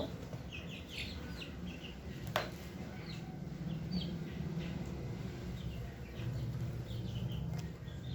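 Hens clucking softly with faint chick peeps scattered throughout, over a low steady background murmur.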